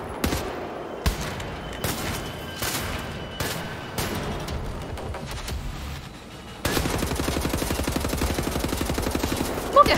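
Gunfire in the video game Wolfenstein: The New Order, first as a series of heavy single shots and bursts, then as a sustained rapid automatic stream, close and loud.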